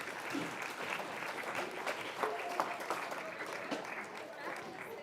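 Sustained applause from an audience at a Mesa economic education quiz bowl and awards ceremony, honoring personal finance case study winners, a steady wash of many hands clapping for several seconds with some voices mixed in.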